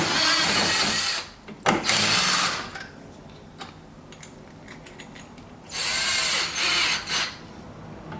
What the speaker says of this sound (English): I'm going to drill my screws out, or my rivets out